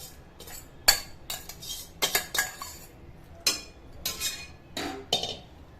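Marinated paneer being stirred into gravy in a pan brings a string of sharp metallic clinks and scrapes from a spoon against the cookware, irregular and close, with quiet gaps between strokes.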